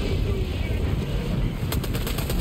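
Helldivers 2 bombardment and gunfire roar as a dense, continuous wash of distant blasts and shots, with a few sharper cracks of rapid fire near the end.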